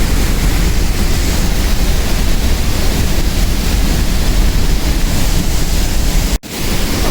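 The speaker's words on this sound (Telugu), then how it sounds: "ఇది డియాబ్లో వాటర్ ఫాల్స్." Diablo waterfall in Ecuador, set between hills, roars as a loud, constant broadband rush of falling water with wind buffeting the microphone, and one brief dropout near the end.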